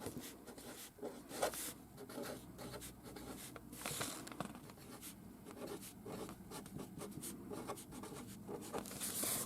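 A pencil scratches across lined paper in steady, soft strokes and brief pauses, close up and quiet, with no talking.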